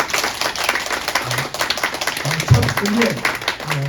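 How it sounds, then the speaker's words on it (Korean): A church congregation at a Sunday worship service claps together, steady applause with a voice talking over it. "서로를 위해서 박수로 우리 함께"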